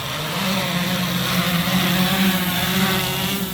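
An S500 fishing bait-drop drone runs its motors up steadily, a close, loud buzzing whine with layered rotor tones that rise slightly in pitch and hold for several seconds.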